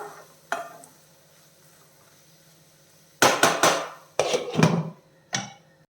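Oats cooking in a non-stick pan get stirred in short bursts, a few scraping, clattering strokes of a utensil against the pan separated by near-silent gaps, close and fairly loud.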